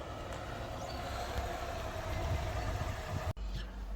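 A 1967 Fiat 500F engine running at a steady idle, a close, even mechanical drone throughout with a sharp knock just before the end.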